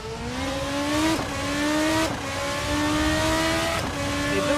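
Super Formula race car in the Assetto Corsa driving game, its engine revving steadily up through the gears, with short breaks at each shift roughly every second. Loud and close, with no talking over it.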